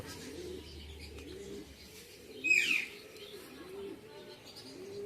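Madrasi pigeons in a village loft give soft, repeated low coos at a steady rhythm, with a brief brighter chirp or flutter in the middle, fairly faint and close.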